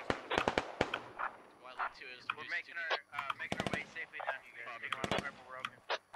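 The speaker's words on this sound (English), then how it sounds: "Huge engagement across the entire line. Smoke, grenades, rounds going back and back." Gunfire and grenade blasts in the military shooter game Squad during a large firefight, sharp loud reports and cracks scattered throughout while someone talks over the action.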